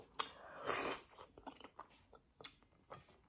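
Quiet, close chewing and biting during a mukbang of beef tripe, cow skin, spinach and fufu: a louder crunchy bite early on, then a run of soft, irregular mouth sounds.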